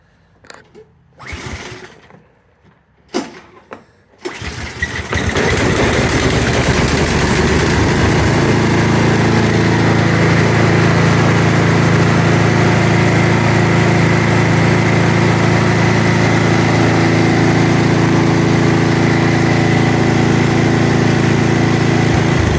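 A Poulan Pro snowblower engine is pull-started: a few sharp tugs and sputters during the first four seconds, then it catches and runs loud and steady at a constant drone for the rest of the clip, close by.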